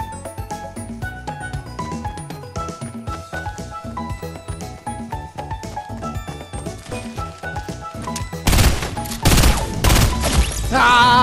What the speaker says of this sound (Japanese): ああ撃てた